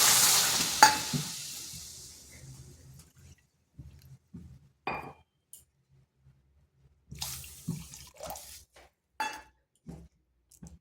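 Water splashes into a pan of sugar for making syrup, a loud pour tapering off over the first seconds, followed by scattered clinks and scrapes of stirring, with no talking.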